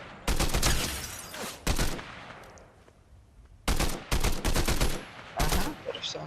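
Fortnite gunfire, loud rapid bursts of automatic shots coming in several clusters separated by short quiet gaps, close and sharp, with no talking over them.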